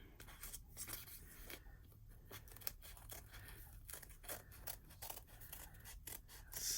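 Scissors snipping a paper female-torso junk journal tag, cutting a curved inset: a quick run of close, crisp blade snips and slicing strokes at a quiet level, alone without talk.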